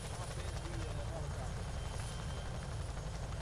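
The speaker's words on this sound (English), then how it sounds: "It's just the helicopter's loud." Helicopter in a video game set during MACV-SOG operations: a steady, loud rotor-and-engine drone with constant low thumping, continuous throughout.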